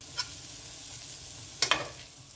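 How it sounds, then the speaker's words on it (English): A vegetable sautéing with onion in a pan gives a faint, steady sizzle. One light utensil tap comes early and a short scraping clatter follows later. "You can see I'm sauteing it with onion."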